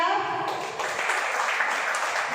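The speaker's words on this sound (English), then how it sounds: "Can we clap?" Applause fills a seminar hall at a school event, rising into a dense, continuous patter of many hands after a brief moment of voices.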